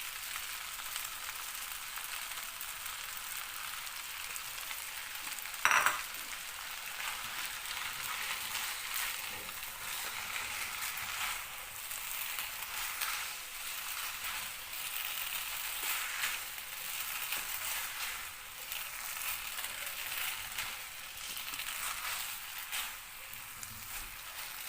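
Chicken and vegetable chow mein stir-frying in a pan with sauce added, a steady close sizzle throughout with a sharp clank of a utensil and soft scraping.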